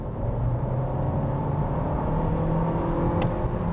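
A Volkswagen Golf 8 eTSI hatchback accelerating while overtaking on the road, a steady engine drone and road rumble heard from inside the cabin with no voices.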